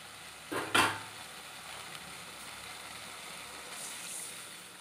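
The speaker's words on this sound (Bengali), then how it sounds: "এই দেখুন আমি প্রয়োজন মতো জল দিয়ে দিলাম।" Water splashes into a pan of sizzling spiced potatoes in a short loud burst, then a quieter steady sizzle and bubbling continues close by, with no talk.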